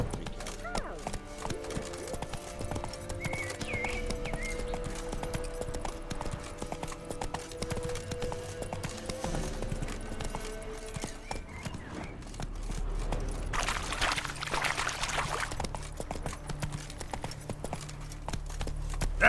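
Video game horse hooves from The Witcher 3: Wild Hunt pound in a continuous galloping clip-clop rhythm, joined by wind and game ambience throughout.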